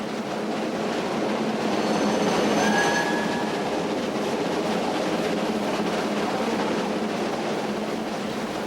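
Train running along a British railway line in the 1950s steam era, a steady loud rumble of wheels on track with a brief squeal of wheels partway through, continuous throughout.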